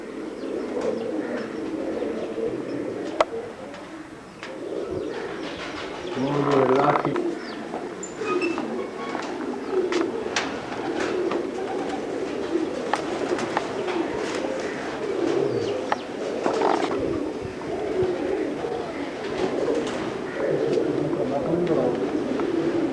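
Pigeons coo softly and repeatedly in the background while people talk nearby, with occasional chirps and clatter.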